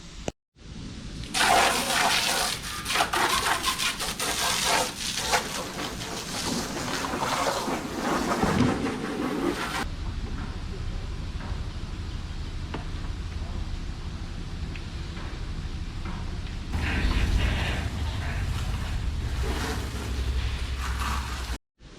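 A jet ski gets a hose-down wash outdoors, with bursts of spraying water hitting the hull, pauses and mechanical clatter, and a voice talking over parts of it.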